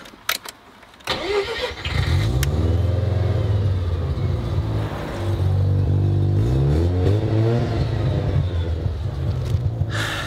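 A Mazda RX-7 rotary engine cranks briefly, then catches and settles into a loud, steady idle, with the revs rising and falling in a few blips.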